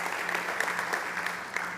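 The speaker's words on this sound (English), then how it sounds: "a big round of applause for Richard Foamrats and Plagineering" Brief, fairly soft applause from an audience at a startup competition stage event, an even patter of many hands clapping at a distance.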